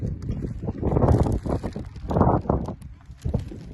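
Strong wind at the seaside at low tide buffets the microphone in loud, irregular rumbling gusts that swell and fade over a few seconds.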